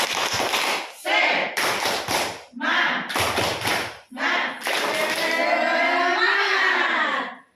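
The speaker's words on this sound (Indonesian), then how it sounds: "Ayo kita tepuk semangat." At a teachers' training session, a group of women performs the rhythmic 'tepuk semangat' clapping cheer, with short bursts of claps and chanting voices in a patterned beat that end in a sustained group shout.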